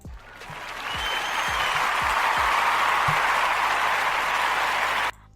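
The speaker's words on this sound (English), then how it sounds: "I got to give a round of applause to LeBron." Audience applause breaks out on a sports talk show, a dense sustained wash of clapping that holds steady and loud for about five seconds before cutting off abruptly, with a few low thumps early on.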